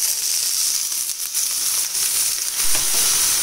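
Chopped onion, capsicum and green chilies sizzling in hot oil in a pan, a loud continuous bright hiss and crackle throughout with no voices.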